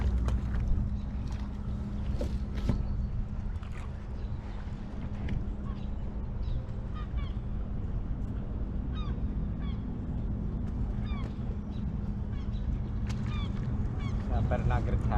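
A hooked seagull gives repeated harsh squawks and calls near the water, moderately loud over a steady background hum, with people talking nearby.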